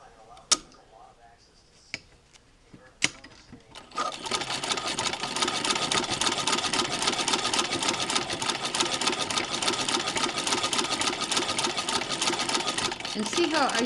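A Singer 15-88 sewing machine running a straight stitch along ribbon, a few clicks before a steady, fast mechanical whirr starts and continues loudly to the end.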